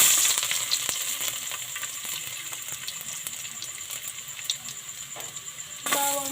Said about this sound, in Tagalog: Ilalagay ko muna ang bawang.